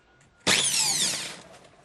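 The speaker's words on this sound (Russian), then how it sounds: "Теперь можно проверить, как же крутит шуруповерт." Cordless drill-screwdriver motor whirring after a trigger button repair, running unassembled; a sudden loud high whine starts and holds steady with a slight pitch shift, then fades as it spins down, no talk.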